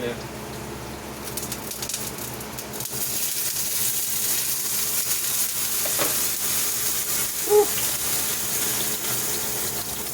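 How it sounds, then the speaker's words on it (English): Fries sizzle and splatter in hot oil with a steady, bright crackling hiss, close and continuous, under a brief spoken remark. "Okay, it's splattering."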